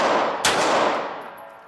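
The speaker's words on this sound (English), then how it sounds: "Shooting 4 rounds at 7 yards in 6 seconds" Single sharp pistol gunshot at close range on a qualification course at 7 yards, a loud crack followed by a long decaying echo, no talking.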